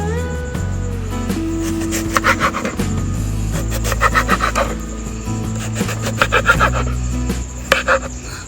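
A knife slicing prickly pear cactus pads (nopales) into pieces on a board, giving repeated rasping, scraping strokes in bursts over a steady tonal hum in the background.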